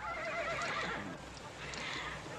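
A horse whinnies in an outdoor Western setting, giving a drawn-out neigh against a noisy background with faint hoof movement.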